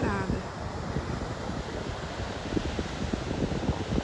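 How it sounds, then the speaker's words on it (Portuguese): Sea waves and wind on Jericoacoara beach in Brazil early in the morning, a steady broadband surf wash with wind buffeting the microphone, continuous and fairly loud throughout. "Aí todo esse mar, coisa mais linda, pouco do barulho do vento."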